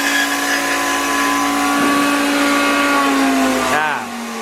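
A 3-phase 4.5 horsepower belt sander and tube notcher runs at full speed, a loud continuous whining grind with a steady pitch that drops as the machine spins down near the end.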